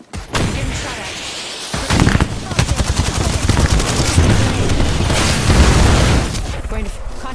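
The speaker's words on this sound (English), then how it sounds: "Getting shot at." Rapid automatic gunfire bursts from the video game Apex Legends, with dense rattling volleys and booming shots that are loud and close, running almost continuously through the clip.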